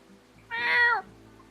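A single short cartoonish cat meow from the Coffee Talk video game, clear and close, rising and then falling over about half a second against a faint background hum.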